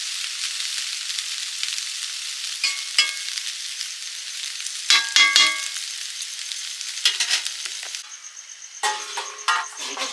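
Drumstick stalks fry in a covered pan, giving a light, continuous high sizzle with scattered clinks and scrapes of a spatula in bursts, heard close and without talk.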